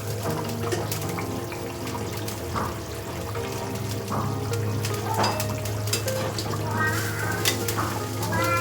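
Fish sizzles in a pan with hot oil while cooking a sour-sweet fish curry, giving a steady, close crackling hiss with scattered pops and clinks throughout.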